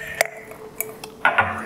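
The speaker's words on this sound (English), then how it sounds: "Drop in an ice cube." An ice cube dropped into a cocktail glass of bitters-flavoured drink: a sharp clink, a few smaller ticks, then a brighter double knock as the cube settles, close and clear in a quiet room.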